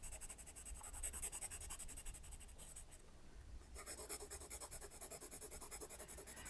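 A hard 2H pencil shades lightly back and forth on paper, making a soft, quiet, rhythmic scratching that pauses briefly midway and then resumes at the same even pace.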